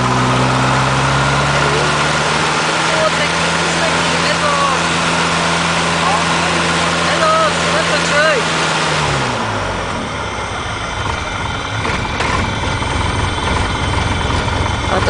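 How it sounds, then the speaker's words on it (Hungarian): An aircraft engine runs at idle during a pre-takeoff engine check, a steady droning hum with voices talking over it, until it cuts out about two-thirds of the way through. "Motort próbáltunk."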